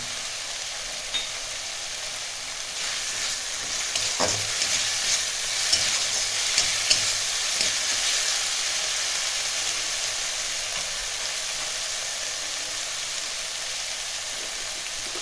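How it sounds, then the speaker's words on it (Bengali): Bhola fish frying in a pan with chopped tomato for a Bengali-style jhal, a steady soft hiss with a few brief clicks and stirring knocks, close and even throughout. "এগুলো ভালো করে একটু ভাজবো। দিয়ে দিলাম একটা টমেটো কুচি।"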